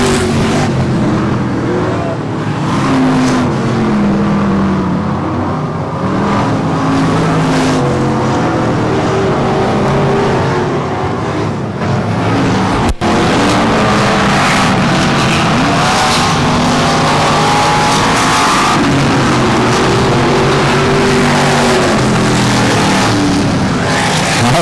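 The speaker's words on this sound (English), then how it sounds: "Flag, Jared Barber, one lap left here." Late model race cars roar around an oval track at Texana Raceway Park on the final lap, a loud, continuous engine drone with shifting pitch as the pack passes close, dense and unbroken from start to finish.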